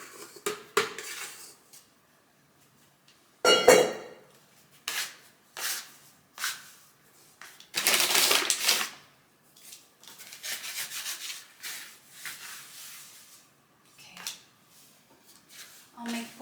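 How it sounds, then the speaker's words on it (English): Pizza dough is scraped out onto a floured worktop and cut into portions with a dough scraper, giving scattered sharp scraping and clattering bursts separated by quiet pauses, with no talking. "Scrape out your dough."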